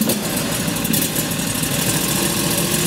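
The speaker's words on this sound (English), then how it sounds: "we're going to start our engine" Small engine on a fiber optic cable blower idling steadily at close range, a continuous even hum with slight vibration and no talk.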